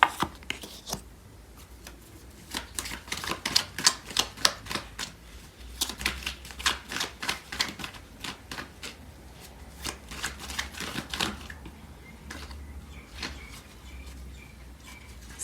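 A deck of tarot cards is shuffled at close range for a long stretch, a rapid riffling patter that comes in repeated bursts with brief pauses, faint birds chirping in the background.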